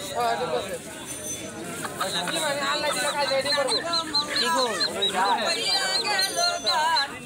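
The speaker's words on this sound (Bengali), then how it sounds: "এটা মুরগি না? এটা এটা ডিম পারছে" Chickens cluck and squawk at a busy poultry market in Netrokona, Bangladesh, where ducks, geese and pigeons are also sold; the repeated clucks sound close and steady, with crowd babble and voices running underneath throughout.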